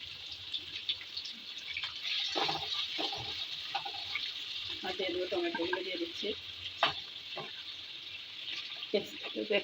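Carrots and cabbage frying in a hot pan for chilli egg fried rice give a bright, continuous sizzle, broken by stirring clatter and scraping bumps throughout.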